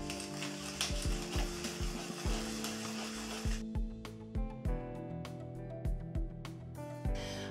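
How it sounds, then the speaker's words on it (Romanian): Black pepper is freshly ground in a hand mill for a diet zucchini and chicken moussaka: close, steady ratcheting crunches in repeated twisting strokes, with no voices. "Adaug și piper proaspăt măcinat."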